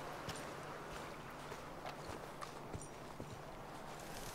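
Horse hooves clip-clop in Red Dead Redemption 2, a quiet, fairly even series of soft thuds over a low outdoor ambience.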